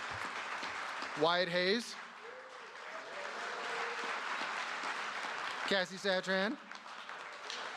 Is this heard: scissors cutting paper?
no